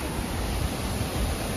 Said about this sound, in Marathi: ते पाणी पडतंय बघा, किती छान वाटतंय.